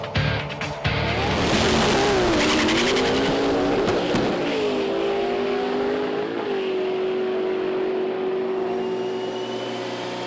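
A roughly 1,200-horsepower race car with a nitrous system roars through back-to-back dyno runs, its engine screaming loud and sustained at near range with sweeping pitch changes as it revs hard, no voices.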